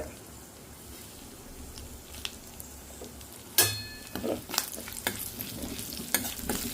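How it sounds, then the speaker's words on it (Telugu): Dry red chillies and asafoetida frying in hot oil as a tempering for semiya pulihora, a steady quiet sizzle with sharper crackles and stirring scrapes joining partway through. "ఈ పోపు కొంచెం వేగాలి మంచిగా వేగాలి"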